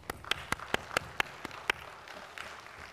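Sparse, distinct handclaps from a small audience at a Seoul opticians' association training session, honoring a former association president; about a dozen separate claps, fairly faint, trailing off into quiet room noise.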